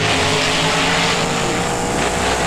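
Monster truck engines roar at full throttle in a BeamNG racing game on a boneyard track with a drag strip, a loud, dense, continuous engine drone with no pauses.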